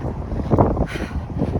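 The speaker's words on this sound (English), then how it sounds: "It is windy." Strong wind in Copenhagen buffeting the microphone, a low rumbling roar that swells and gusts steadily throughout.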